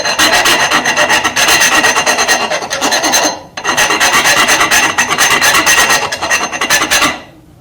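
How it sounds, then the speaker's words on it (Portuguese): A round file rasps steadily along a curved wooden edge, shaping a Roman ogee profile by hand, with continuous back-and-forth strokes, close and loud, a brief pause midway, no voices. "Vou na roliça agora,"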